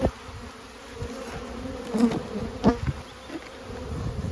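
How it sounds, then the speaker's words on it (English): Honey bees buzz steadily inside a beehive brood chamber, a close, dense hum with scattered louder passes and some handling knocks. "Plenty of bees down there too."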